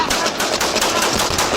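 Gunfire crackles through a police bodycam shootout with SWAT officers, a loud, dense burst of rapid, harsh reports that runs without a break.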